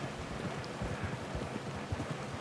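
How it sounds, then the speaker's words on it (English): Steady rain falls across the landscape in Red Dead Redemption 2, a dense, even hiss with soft low patter throughout, close and continuous with no voices. "I like it when it's raining"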